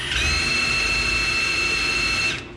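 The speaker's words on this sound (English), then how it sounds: "This will at least allow me to drill in there" Steady high-pitched whine of a power drill driven through a 90-degree right-angle adapter while fabricating a Dana 44 independent rear suspension into an S10 truck, running continuously and close for about two seconds before stopping.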